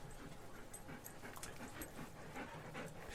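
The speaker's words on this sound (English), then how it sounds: "Oh, the dogs are here." Dogs pant quickly and faintly close to a microphone, with soft whimpers and small yips in the breathy, rhythmic huffing.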